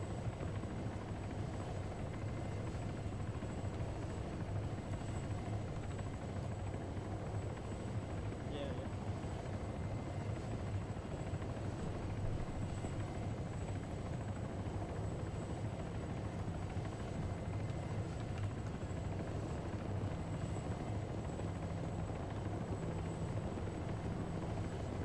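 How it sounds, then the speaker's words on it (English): A military helicopter in the Arma 3 game drones with a steady, loud rotor and engine roar through the whole stretch while voices talk over it. "the rest of the wounded get loaded onto the chopper and get medevaced out"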